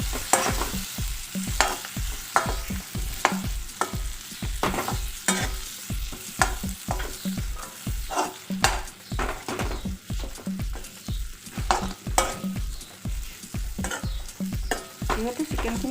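Half-cooked chicken with turmeric being stirred and fried in a pan: a steady sizzle under repeated, rhythmic scraping strokes of the utensil, close and fairly loud throughout with no talking.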